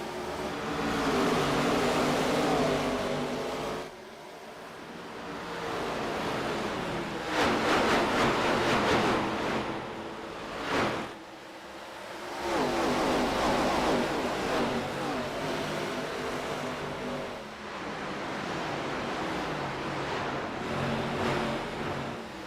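Race cars roar around Dover's Monster Mile in a racing video game during an ARCA series event, a dense, continuous engine drone that surges and dips over about twenty seconds with no talk.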